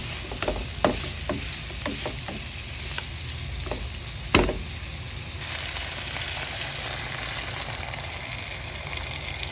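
Chopped onion frying in a pan with chicken while being stirred, a steady sizzle with several sharp utensil scrapes and clinks early on, then a louder, brighter hiss swelling in the second half.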